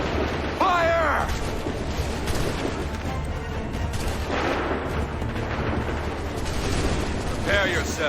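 Musket volley from a line of soldiers firing on command in Assassin's Creed III, heavy booming blasts rolling continuously through the whole stretch, with shouted voices rising above the din at the start and near the end.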